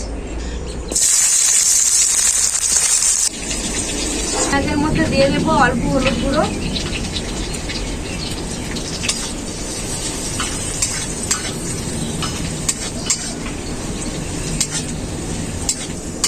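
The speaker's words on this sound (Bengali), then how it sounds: "কড়াইতে দিয়ে দেবো সরষের তেল তেল খুব ভালোভাবে গরম হয়ে গেছে বেগুনের ভর্তা বানানোর জন্য কড়াইয়ের মধ্যে দিয়ে দেবো কেটে রাখা পেঁয়াজ" Chopped onion sizzles in hot mustard oil in a wok for eggplant bharta, a steady close hiss with stirring scrapes while a voice talks over it.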